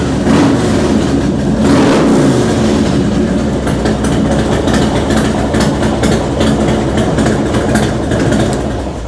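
A Harley Davidson FXDX motorcycle engine runs warm, revving with a dense, loud, rumbling drone that holds steady with slight surges and a rapid rhythmic pulse underneath, close to the bike and without speech.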